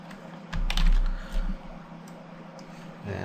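Computer keyboard typing, a brief burst of rapid clicking keys up close, loudest early on, then tapering to a few scattered taps over a low hum.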